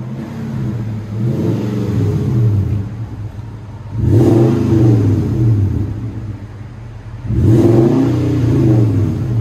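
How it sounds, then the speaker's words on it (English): A 2008 Nissan Titan 5.6L V8 pickup with a Flowmaster Super 40 exhaust revs hard three times, each roar swelling and falling back to a deep burbling idle, loud and close with no voices. "Go ahead and rev it."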